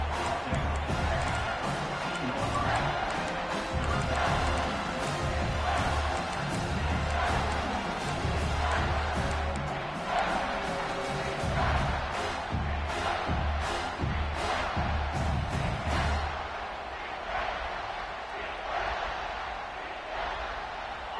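A stadium crowd roars steadily in an NCAA college football video game, a dense wash of cheering that holds for most of the stretch before easing off toward the end.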